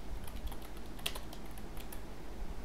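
Typing on a computer keyboard during a web-design coding lesson, a steady patter of light key clicks with one sharper tap standing out, heard alone over faint room noise.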